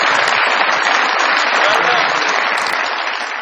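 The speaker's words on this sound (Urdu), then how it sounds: "بہت ساری تالیاں جی میرے اس ینگسٹر کے لیے." Sustained studio audience applause on a comedy talk show, dense and loud throughout, easing slightly toward the end.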